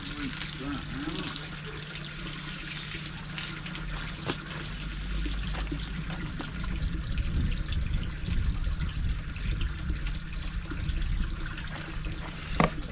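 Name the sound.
rinsing out a container with water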